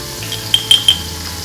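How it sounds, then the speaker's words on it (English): Chicken and garlic frying in a pan, a close steady sizzle with a few sharp clinks of a utensil against the pan in quick succession. "Once your chicken has browned a little bit, now's your time to add in the garlic."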